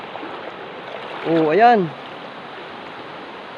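A gently flowing, knee-deep river on the way to Makibato Falls in the Sierra Madre mountains at Dingalan: a steady soft rush of water throughout, with someone speaking briefly in the middle.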